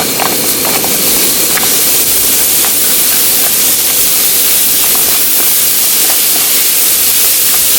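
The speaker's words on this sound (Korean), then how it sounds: "이것도 바지락 술찜처럼 노릇해질 때까지 볶아주시는 게 좋아요" Sliced garlic stir-frying in oil in a pan at an outdoor campsite, giving a steady, loud, close sizzle and hiss that runs unbroken from start to finish, with no one talking.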